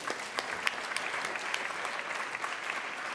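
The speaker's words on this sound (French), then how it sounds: "Vous pouvez l'applaudir, mesdames et messieurs." Steady applause from an audience at an award ceremony, a dense patter of many hands clapping at an even level throughout, with no talking over it.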